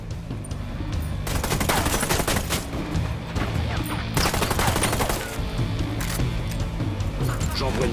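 Rapid bursts of gunfire in the video game Ghost Recon Wildlands: sharp, loud volleys in quick clusters, with brief lulls between them.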